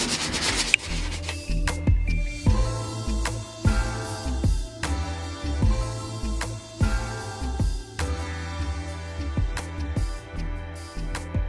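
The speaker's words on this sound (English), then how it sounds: "we just finished sanding it, and we got it pretty smooth" Steady abrasive rubbing and scraping of sanding a broken deer antler, close and continuous, with rhythmic strokes and a few sharp knocks; no voices.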